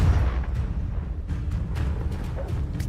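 A Confringo blasting curse explodes in Hogwarts Legacy, a heavy low boom followed by rumbling debris and scattered sharp crackles, loud and close with no talking.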